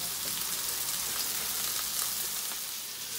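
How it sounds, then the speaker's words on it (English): Fish sizzles and crackles steadily in a hot pan, a continuous close frying noise with no voices. "While the fish is frying"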